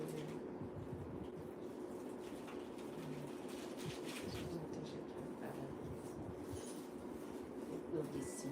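A pet bird coos softly in low repeated notes in a quiet room, faint under people talking and background noise.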